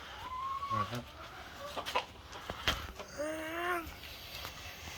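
A chicken on a farm in Panama gives several close clucks and a drawn-out squawking call over a noisy outdoor background.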